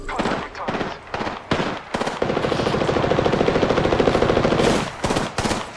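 Rapid automatic gunfire from a shooter video game rattles out in short bursts, then in one long, evenly paced stream of shots. The fire is loud and close, with voices talking over it.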